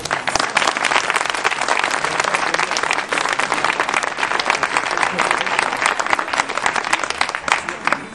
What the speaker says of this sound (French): je voudrais un grand applaudissement pour tout cela